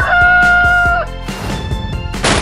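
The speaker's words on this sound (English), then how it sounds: "chicken" A chicken crows with a loud, close cock-a-doodle-doo that is followed by clucking and scratchy bursts, then a sudden crash-like noise at the end.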